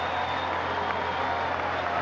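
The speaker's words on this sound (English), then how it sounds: "he's coming off to applause" A rugby crowd at a Taranaki versus Hawke's Bay provincial match applauds an injured player leaving the field, a steady wash of clapping and crowd noise with no distinct peaks.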